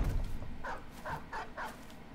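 A dog in the video game Battle Brothers gives a quick run of about four short yipping barks at an even pace, heard over a low rumble of game sound.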